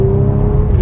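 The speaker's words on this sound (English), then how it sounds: "that was a nice little blip" A 2019 Audi RS5 Sportback engine gives a quick throttle blip, a loud, close, raucous roar with a steady droning tone held throughout, with no talk over it.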